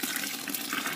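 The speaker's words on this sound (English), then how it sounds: "I'm going to actually add some more water to this because this is looking a little thick." Water is poured into a thick beer mash during home brewing, a steady close splashing pour that runs without a break and with no talk.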